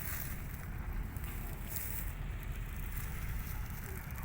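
A Niva SK-5M combine harvester running in second gear during the 2024 wheat harvest, a steady low engine drone with heavy wind buffeting the microphone throughout.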